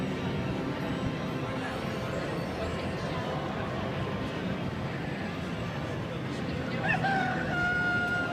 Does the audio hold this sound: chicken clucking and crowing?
yes